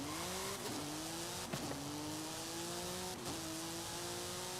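An S1-class race car in Forza Horizon 5 revs up through its gears, the engine tone climbing and dropping at each quick shift, three or four shifts in a row, heard alone at moderate volume.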